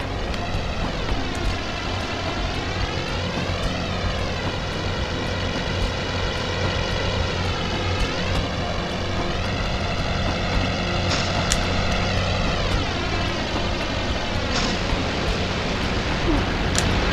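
A propeller airplane engine in the Spider-Man 2: Enter Electro video game drones loudly and continuously, its pitch sweeping up and down as the aircraft moves, with occasional sharp game effects layered on top.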